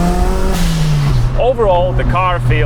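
A modified project car's engine pulls under added throttle from inside the cabin, a loud low drone rising in pitch, then someone speaks over the continuing engine hum.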